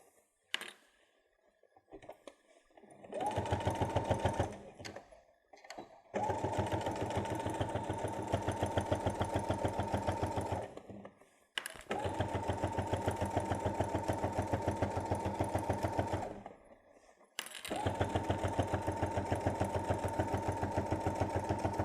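A sewing machine stitches up the sides of a fabric travel pouch in four long, steady runs of rapid mechanical whirring, separated by brief pauses. It is close, loud and clear, with no talking.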